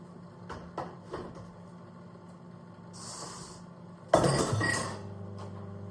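Dishes and cutlery clink as they are loaded into a dishwasher in a home kitchen: a few light separate taps early, a hissy stretch, then a louder clatter of pots, glass and silverware near the end, with no talk.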